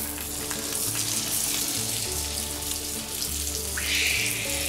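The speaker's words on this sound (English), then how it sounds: "Even if this butter gets a little brown, that's adding some love flavor to it." Rock cod fries in browning butter in a pan, giving a steady close sizzle and crackle that rises slightly toward the end, with a low hum underneath.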